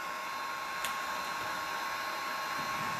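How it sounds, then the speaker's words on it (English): A heat gun blows over poured paint on a tile for resin coasters, a steady loud whooshing roar with a thin high tone, held continuously and broken by one brief click, no voices. "When you're drying paint with a heat gun"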